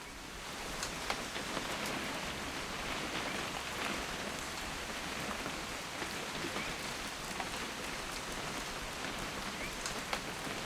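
Steady, dense rainfall from the video game What Remains of Edith Finch, on a rainy hunting-trip weekend, hisses evenly throughout with scattered drop patters and no voices.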